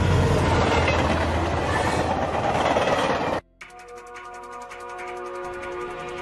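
A runaway anime train with a malfunctioning control valve roars along in a dense rumbling wash, then after a brief cut shifts to rapid, evenly spaced clacking with sustained tonal ringing, loud and close, no voices.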